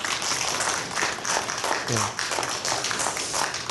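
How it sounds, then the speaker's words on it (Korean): Church congregation applauding a newly baptized child at a Christmas thanksgiving service in a Methodist church in Cheonan, steady crowd clapping throughout, with some voices murmuring over it. "성도 여러분께서는 박수로 환영해 주시기 바랍니다."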